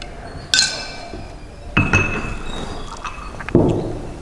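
Glassware clinks sharply a few times, spaced apart, as a solution is mixed during a DNA isolation procedure, with a faint background hiss between the taps.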